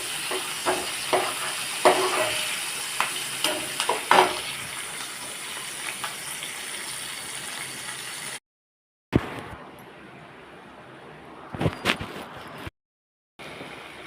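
Bitter gourd fries in hot oil for a tomato curry, a steady sizzle with scattered stirring clatters in the first half, then brief gaps and quieter hissing.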